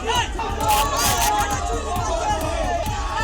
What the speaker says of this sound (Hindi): वीडियो में देखिए भीड़ ने अभिषेक बनर्जी के खिलाफ चोर चोर के नारे लगाए